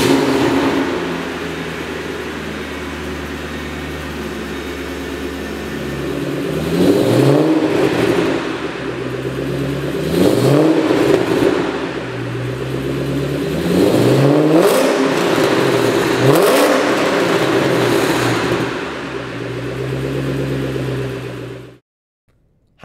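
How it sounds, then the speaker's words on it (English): A 2007 Ford Shelby Mustang GT500 with a smaller supercharger pulley and Borla catback exhaust revs hard several times in a row, each loud, rising blip settling back to a rumbling idle before the engine cuts off. "Other upgrades include a smaller supercharger pulley for some extra boost, a Borla catback exhaust system"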